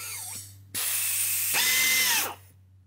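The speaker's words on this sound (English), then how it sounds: "We can set an M12 stainless steel rivet nut with this tool." An air hydraulic RivetLab X12-P rivet nut tool sets an M12 stainless steel rivet nut. A loud, close pneumatic hiss starts abruptly, swells into a second strong burst with a mechanical whine, then cuts off. No one speaks.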